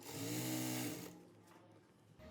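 An electric sewing machine runs in one fast burst of stitching, sewing elastic onto a palazzo, its motor whirring loudly and close for about a second before stopping, leaving faint handling noise.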